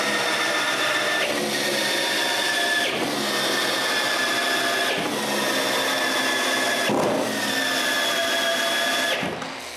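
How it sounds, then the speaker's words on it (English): Power drill driving screws into a wooden tabletop, a sustained loud whine that dips and restarts every couple of seconds as each screw seats, close by with no talk. "After screwing a couple of screws, I remove the table and add a bunch of screws."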